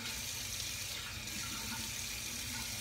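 Tap water runs steadily into a sink to rinse a shaving razor, a continuous close hissing flow with no talk over it.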